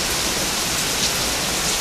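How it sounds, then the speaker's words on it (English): A heavy late-summer rain downpour hisses as a dense, steady, broadband wash of falling water, loud and close, with no voices. "Lots of, as you can see, pretty heavy downpour here on the first day of September."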